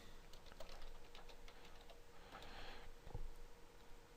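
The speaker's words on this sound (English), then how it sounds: "we can go ahead and type in the name for this file" Light, quick keystrokes on a computer keyboard as a file name is typed, a soft irregular run of clicks close by with no talking.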